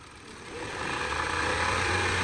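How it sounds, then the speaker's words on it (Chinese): An Audi Q5 engine, third generation, revs from idle up toward 2000 rpm, a steady mechanical hum that swells gradually and holds at a higher drone, heard close up with no talking. "这台奥迪 Q5 它也是3代11888啊，油门轰到2000转"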